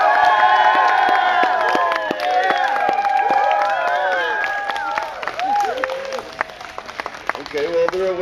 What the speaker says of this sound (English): please, on three, give him a cheer